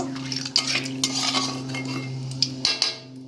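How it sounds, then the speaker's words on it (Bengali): A spoon stirs bay leaf, panch phoron and radhuni spices in a cooking pan for sukto, with sharp metallic clinks and scrapes repeating close up over a steady low hum. "একটু নাড়িয়ে নেব"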